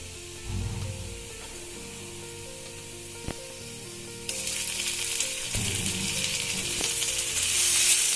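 Ginger garlic paste sizzles in a pan with golden brown fried onions, a steady close frying hiss that swells louder partway through, with a faint low hum beneath and no talking.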